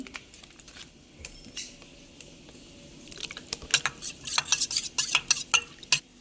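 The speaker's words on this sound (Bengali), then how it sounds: "এবার দিয়ে দিচ্ছি হলুদ গুঁড়ো, দিয়ে নাড়িয়ে নিচ্ছি" Turmeric powder is stirred into tomatoes in a pan while cooking a tangra fish curry, with soft scraping that grows into quick, irregular clinks and taps of the utensil against the pan.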